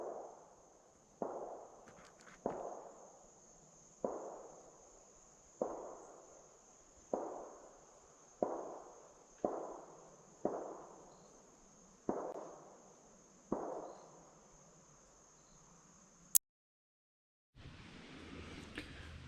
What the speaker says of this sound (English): the gunfire you hear in the property next door